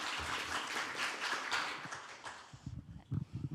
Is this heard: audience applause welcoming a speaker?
yes